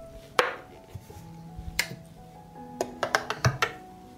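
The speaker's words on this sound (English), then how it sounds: "I put the jars in the pot." Glass jars set down one after another into a deep pot lined with a cloth, a few sharp clinks and knocks spaced apart, then a quicker cluster of taps near the end, close by.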